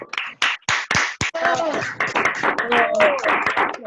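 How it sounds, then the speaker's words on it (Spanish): A few separate close hand claps come first, then scattered applause for a teacher after a talk on circadian cycles, mixed with overlapping voices and cheering. "le vamos a pedir un aplauso a la profesora"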